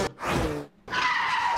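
Tire skid sound effects from a racing game sample pack: a short screech, a brief gap, then a longer squeal, both loud and close, with no voices.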